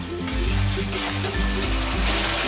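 Fish fat fries in a small amount of oil in a wok, giving a loud, close, continuous sizzle with low bubbling that never lets up.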